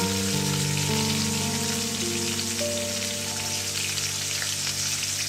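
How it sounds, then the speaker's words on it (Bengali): Eggplant and potato pieces fry in hot oil with salt and turmeric, giving a steady, close sizzling hiss that holds evenly throughout, with faint steady tones running beneath it. "দিয়ে দেবো স্বাদ মতো একটু নুন, দেবো একটু হলুদ গুঁড়ো, দিয়ে আমি বেগুনটাকে ভেজে নেব।"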